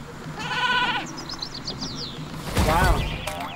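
A sheep bleats in the Skylanders Trap Team video game, two quavering cries, the first mid-pitched and the second louder and deeper, over busy game music and effects.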